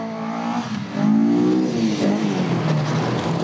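Rally car spinning out on a gravel stage at the Wairarapa round of the Rally Xtreme series, engine revving hard and swinging in pitch as it slides, loud and close with no talking.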